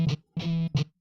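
Short distorted electric guitar power chords from a sampled EastWest library, three clipped stabs with the middle one held longer, each cut off sharply into silence.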